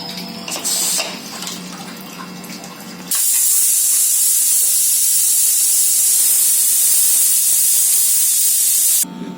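Steam bursting from a pressure cooker as it is opened after cooking a small black-eyed pea curry, a loud continuous hiss that starts abruptly after a few seconds of handling noise and cuts off near the end.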